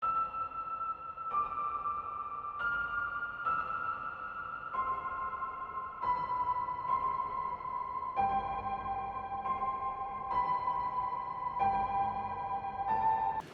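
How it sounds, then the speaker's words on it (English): A slow, sustained piano counter melody drenched in reverb, long washy notes stepping gradually downward, each ringing into the next with no voices. "I pulled up this piano in Expand and then just drenched it in reverb."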